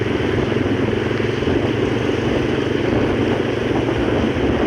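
A motorcycle is ridden along a road, its engine a steady, dense droning rumble mixed with wind noise, loud and constant throughout without any voices.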